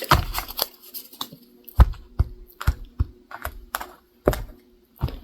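A rapid series of crisp paper-like clicks and flutters in uneven bursts, close by, as a tarot deck is riffled and bridged together.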